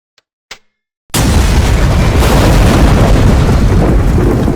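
A pressurized water reactor melts down and explodes in Minecraft's HBM nuclear mod: after a couple of small clicks, a sudden loud blast erupts into a sustained, roaring wall of rumbling noise that holds steady to the end.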